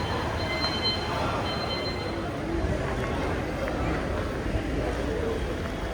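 A train rumbles at a railway platform in a dense, steady roar of wheels and carriages, with a faint whistle-like tone early on and voices partly buried in the noise.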